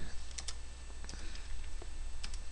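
Fingers type on a computer keyboard, with scattered light key clicks at an uneven pace over a low, steady hum, without speech.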